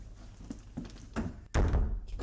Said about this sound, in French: La porte.